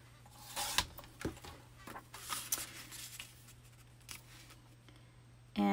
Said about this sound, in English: So we can cut that one off and put that aside.